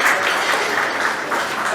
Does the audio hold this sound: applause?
yes